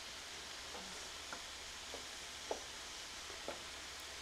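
Veal browning in a pan gives a quiet, steady sizzle, with a few faint scrapes and clicks of stirring scattered through it.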